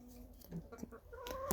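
Chickens cluck softly nearby in a yard in a short burst of low, throaty calls, fairly quiet against light background noise.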